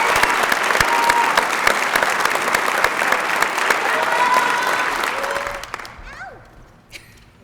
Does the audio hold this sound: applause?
yes